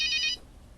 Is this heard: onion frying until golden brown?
no